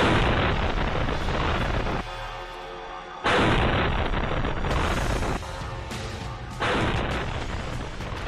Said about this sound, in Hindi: ये ड्रोन इस रिहायशी बिल्डिंग से जा टकराया और फिर बड़ा धमाका हुआ